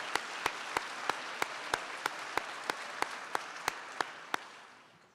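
At a white coat ceremony, one pair of hands claps in a slow, even rhythm about three times a second, each clap crisp and close over a quieter background of audience clapping that fades toward the end.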